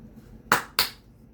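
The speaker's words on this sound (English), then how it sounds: "I just like to do the double claps, so we're gonna keep doing them." Two sharp hand claps in quick succession, close and loud, about a quarter second apart, with near silence around them.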